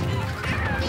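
Chicken in a Super Smash Bros video game: a brief loud honking squawk over busy game sounds.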